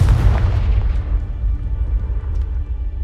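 Confringo fire spell explosion in the video game Hogwarts Legacy, a single loud booming blast with a deep rumble that fades out over a few seconds.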